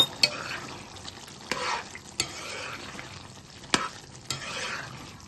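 Chicken and broad bean curry frying in a pan as garam masala is stirred in: soft sizzling under repeated scraping stirs and sharp clicks of a spoon against the pot.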